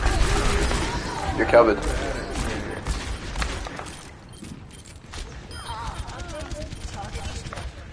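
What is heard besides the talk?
gunfire in the video game Overwatch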